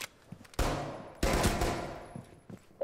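Bursts of automatic gunfire from the Rainbow Six Siege game, two sustained volleys with a few short isolated shots around them, loud and close.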